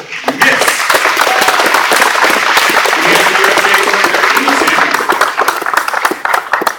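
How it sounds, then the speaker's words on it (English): A political rally crowd in Manchester breaks into loud, dense applause with cheering voices mixed in, sustained and close throughout. "big round of applause for Miss"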